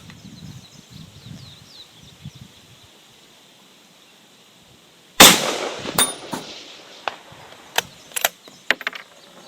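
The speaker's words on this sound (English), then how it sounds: "there's 3 rounds after the first shot" A GA Precision Non-Typical rifle fires outdoors in windy conditions: one loud, sharp report followed by several quieter cracks and echoes, after a stretch of faint wind and birdsong.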